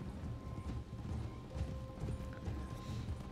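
Horses in Red Dead Redemption 2 move at a steady clip-clop, hoofbeats fairly quiet under a continuous low rumble of in-game ambience with a faint tonal hum.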